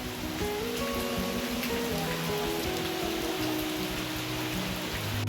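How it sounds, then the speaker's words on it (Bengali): Heavy rain pours down continuously outside a house gate, a dense, loud, even roar of drops with a faint low tonal hum underneath. "জোর বৃষ্টি হচ্ছে মারাত্মক জোর বৃষ্টি হচ্ছে"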